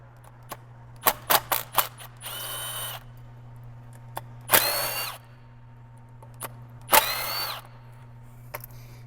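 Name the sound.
power tool removing thermostat housing bolts, BMW N63 engine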